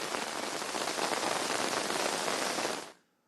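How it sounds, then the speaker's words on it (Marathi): Steady, dense rain pours down at the Bandra-Worli Sea Link in Mumbai, a loud, even hiss of drops on hard surfaces that stops abruptly just before the end. "पहाटेपासून मुंबईमध्ये पावसाला सुरुवात झालेली आहे आणि ठिकठिकाणी जर आपण पाहिलं तर पावसाच्या सरी कोसळतायत"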